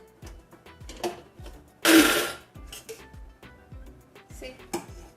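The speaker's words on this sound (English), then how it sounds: "also gonna add this curry leaves to the tomatoes paste. Okay, let's grind this." An electric grinder blitzes tomato paste with curry leaves for a South Indian tomato chutney, a loud burst of whirring grinding in the middle between clattering pulses and handling knocks, with a voice speaking around it.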